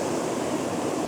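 An autumn waterfall at Devil's Hopyard pours steadily, giving a dense, continuous rushing hiss that holds at an even loudness throughout with no voices over it.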